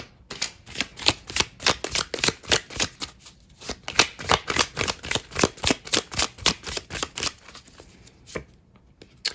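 Oracle cards shuffled by hand in a quick, steady rhythm of crisp riffling bursts lasting several seconds, close and fairly loud, then trailing off, with no talking.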